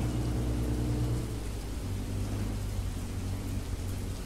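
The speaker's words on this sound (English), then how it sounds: "Whoa, lightning strike." Thunder from a lightning strike in the Roblox Jailbreak video game rumbles low and steady over a rain-like hiss, moderately loud, with no talk over it.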